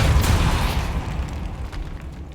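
Depulso force spell cast in the game Hogwarts Legacy, a single heavy booming blast at the start that rumbles and fades over about two seconds, alone without speech.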